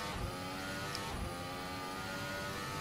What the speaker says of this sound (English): Hear the car struggling for grip.